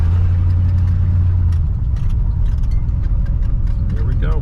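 A retired North Carolina Highway Patrol Ford Custom 500 with 291 gears idles cold, a steady low engine rumble close by under a voice speaking briefly.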